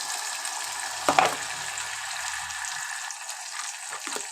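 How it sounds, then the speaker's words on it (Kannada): Tamarind juice is poured into a hot tempering of urad dal, chana dal, mustard seeds, curry leaves and onion for a beetroot palya, giving a brief splash and sizzle, then a steady low frying hiss. "ಮತ್ತು ಒಗ್ಗರಣೆಗೆ ಹುಣಸೆ ರಸ"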